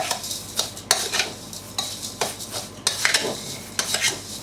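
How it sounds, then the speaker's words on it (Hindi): A spoon mixes garlic powder into a cornflake crumb coating in a bowl, with repeated scraping strokes in an uneven rhythm, close and fairly loud, with no voices. "इसे तमाम चीज़ों को अच्छे से मिक्स करते हैं।"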